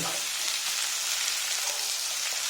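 Onions fry in hot oil with a dense, steady hiss and crackle that holds evenly throughout, close and moderately loud with no one speaking.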